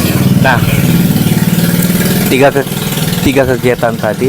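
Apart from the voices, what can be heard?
loud motorcycle passing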